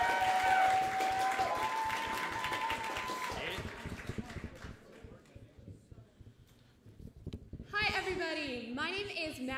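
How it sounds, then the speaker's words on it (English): Warm round of applause from an audience at a school event honoring a peer leadership group and an athletics program, with clapping running through the first seconds before fading under a voice that follows. "please give a more warm round of applause to the BR Bridging Lives and the Substance-Free Athletics Program."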